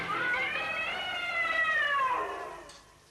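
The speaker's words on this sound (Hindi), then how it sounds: "शेर की मौसी हैं, बिल्ली मौसी" A cat gives one long, drawn-out meow that rises and then falls, loud and close, before fading away, with no one speaking.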